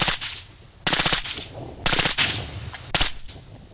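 Three short bursts of automatic gunfire from supersonic ammunition, loud and close, each a rapid cluster of sharp cracks separated by about a second of ringing decay.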